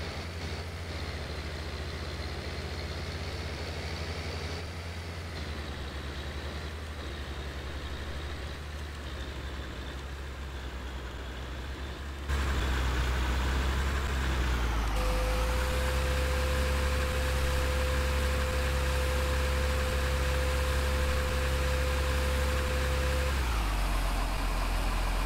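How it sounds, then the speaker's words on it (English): A tractor engine in the Farming Simulator 2013 game hums steadily, then rises to a louder, higher rev partway through as the tipper box is raised, holding a sustained drone to the end. "It's kind of cool too how it revs up the tractor as it raises the box there"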